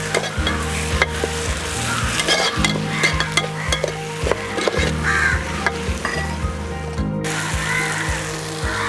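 Chopped tomatoes sautéing in a pan for Thalassery dum biryani, a loud continuous sizzle with repeated rhythmic scraping and stirring strokes of a spoon against the pan, close up, with faint crow caws in the background.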